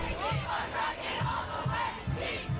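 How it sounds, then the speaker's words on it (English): Students cheer together at a game, a crowd chanting in unison with rhythmic rising shouts and repeated low stomping beats, loud and close. "As they cheer together at the game"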